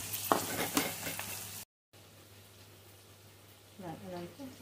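Mutton frying in a pan for biryani gives a steady, soft sizzle and spatter throughout, with a brief gap, while a voice talks over it near the start and again at the end.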